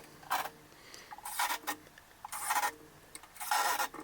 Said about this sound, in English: So we've just cut our plasterboard